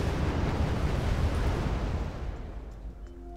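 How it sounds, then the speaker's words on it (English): Rockeye cluster bombs exploding in the military strategy game Wargame Red Dragon, a loud sustained rumbling roar of blasts that slowly fades out. "Trying to deliver some rockeye bombs."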